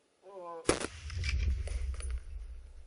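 A single sharp, loud rifle shot fired quickly at a shooting range cracks out after a brief stretch of speech, then decays into a low, lingering rumble and echo.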